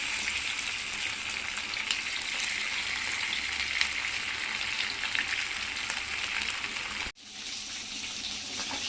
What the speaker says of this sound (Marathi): तर आपल्याला बांगडे मच्छी फ्राय होण्यासाठी टाकायचे आहे।